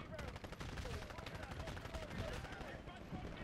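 Rapid gunfire from the shooter video game Titanfall, a dense continuous burst of shots lasting the whole stretch, with a voice talking over it.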